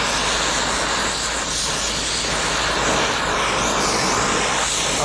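Gas torch brazing a muffler joint on a Honda, a steady loud roaring hiss that runs unbroken and close up throughout, with no talking.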